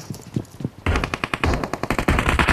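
Rapid automatic gunfire in the video game PUBG Mobile, a few spaced shots followed by a fast, sustained burst of sharp cracks, loud and close.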